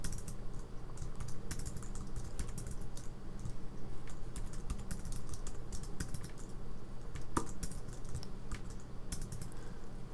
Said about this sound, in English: I'm just hitting tab twice so that I don't have to take my hands off of the keyboard